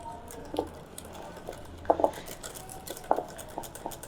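A spoon mixes cocktail sauce ingredients in a bowl, giving soft wet squishes broken by a few sharp clinks of metal against the bowl, close and fairly quiet with no talk.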